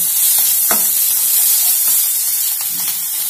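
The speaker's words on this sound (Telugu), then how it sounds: "ఇప్పుడు మంచిగా అల్లం వెల్లిగడ్డ పేస్ట్ ఫ్రై అయ్యే వరకు కలపాలి." Ginger-garlic paste fries in a pan with curry leaves while being stirred for a potato fry, giving a steady loud sizzle and hiss with faint scraping of the spoon throughout.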